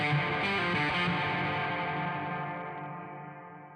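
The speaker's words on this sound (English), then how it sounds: "Instead of getting a nice natural reverb, we end up with a distorted mess." Electric guitar played through a distortion pedal with reverb added, producing a dense, smeared, buzzing wash of sustained chords that rings on and slowly decays toward the end, alone without talk.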